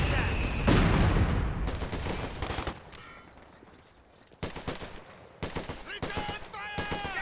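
Machine gun fire in Company of Heroes 2, a World War II strategy game: bursts of rapid shots crackle in repeated volleys among other battle noise, loud and close, with gaps between bursts.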